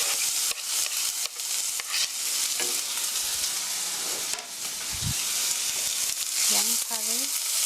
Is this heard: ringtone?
no